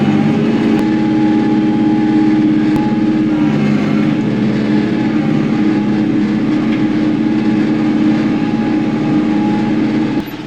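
A Kioti NS6010 tractor engine works a steep hillside food plot in Southern Illinois, cranking through tree roots with a welded implement; a steady, loud mid-pitched engine drone runs continuously and close, with no talk.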